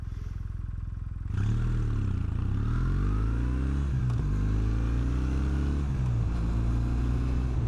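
Kawasaki W800 parallel-twin motorcycle engine on its factory exhaust, idling quietly and then starting up into a loud, steady running drone that rises and falls through a few rev changes.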